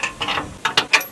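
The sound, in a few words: ratchet loosening a mount under a car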